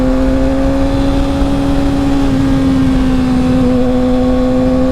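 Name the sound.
Yamaha R6 motorcycle engine with slip-on exhaust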